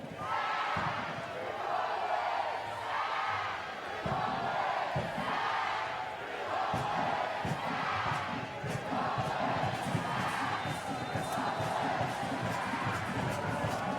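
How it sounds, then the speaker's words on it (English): Fans at a night soccer match between Sacramento Republic FC and Tulsa Roughnecks FC at Bonney Field roar and yell in a dense, continuous wash, with louder surges and scattered shouts and claps near and far. "Yelling Sac Republic down below us here. The crowd at Bonnie Field into this one here."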